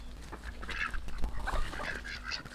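Chickens in a backyard flock squawk and cackle in agitated bursts as someone reaches to catch one, close and fairly loud, with scuffling underneath.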